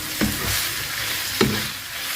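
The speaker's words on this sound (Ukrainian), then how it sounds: "забуваємо помішувати, щоб не пригоріло. Поки що це на високій температурі смажимося." Vegetables fry over high heat in a pan with a constant sizzle, and two distinct scraping stir strokes come roughly a second apart. No one speaks.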